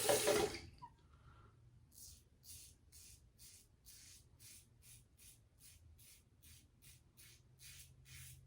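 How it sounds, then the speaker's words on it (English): A Styletto razor rinsed under running water, a brief loud tap gush at first, then a steady series of short, soft splashing strokes repeating about twice a second, close by. "let me rinse this stiletto off here"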